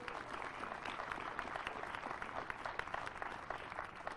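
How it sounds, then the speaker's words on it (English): Applause from an audience at a Hawley semiquincentennial bell event, a dense, steady patter of many hands clapping at moderate distance, sustained evenly for several seconds. "So a round of applause for them."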